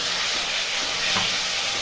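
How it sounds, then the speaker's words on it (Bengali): Fried potatoes being sautéed in spice masala in a pan, a dense continuous hiss and sizzle close up with faint stirring movement throughout. "ভালো করে কষে নেব।"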